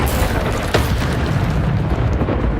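Incendio fire spell bursting in Hogwarts Legacy, a dense, roaring blast of flame with a sharp pop near the start, loud and continuous without speech.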